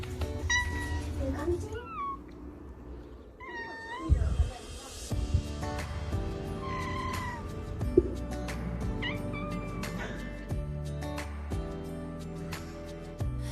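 Sally, a cat born all black, meows repeatedly in chatty, sing-song calls over background music, with a voice talking over parts of it.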